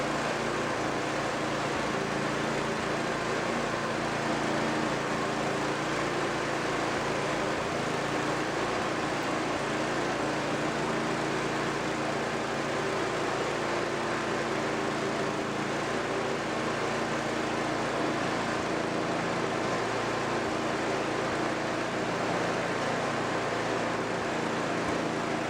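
A Noma 8hp 27-inch snowthrower engine runs steadily with its auger turning, a continuous even drone that holds alone at moderate level throughout.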